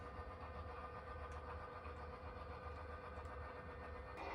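A model train on a model railroad slowly backs a boxcar into a spur, giving a faint, steady low mechanical rumble with no clear clicks or voices.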